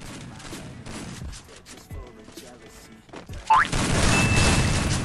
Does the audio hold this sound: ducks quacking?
no